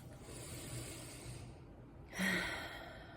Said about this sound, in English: A really big deep breath.